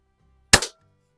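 A single shot from a Daisy model 99 BB gun, a short, sharp crack with a quick secondary snap, close by and otherwise quiet.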